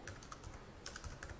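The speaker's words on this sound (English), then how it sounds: "So I'll start off by typing" Quick typing on a computer keyboard while entering a query into Power BI Q&A, a close series of light plastic key clicks in short irregular bursts, with no speech.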